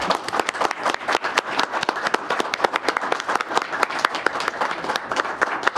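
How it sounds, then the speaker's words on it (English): Steady applause from the attendees of a utility district board of directors meeting, many hands clapping together in a dense, continuous burst lasting several seconds at moderate volume. "Let's give them all a round of applause for this effort."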